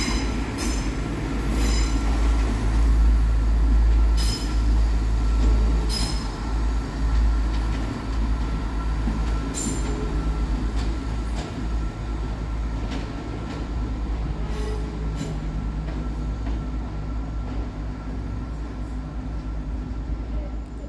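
Trains rumble through Birmingham New Street as West Midlands Railway units 172007 and 170501 depart on the far side while another train arrives, a continuous low roll with intermittent wheel squeals and sharp metallic clicks.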